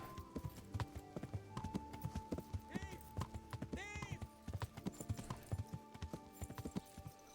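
Steady clip-clop of horse hooves in a brisk rhythm, with a brief whinny and some background game sounds.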